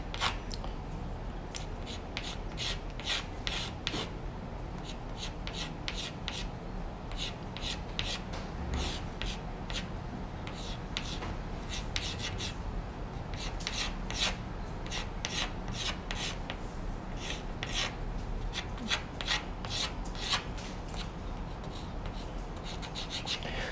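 Sharpened chalk lightly drawing and thickening letters on a chalkboard, making a continuous close scratchy rasp of rapid short strokes throughout, with no talking.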